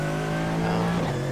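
An Audi GT3 race car engine in iRacing holds a steady, loud tonal drone with a slight shift in pitch near the end, close and continuous, with no talk.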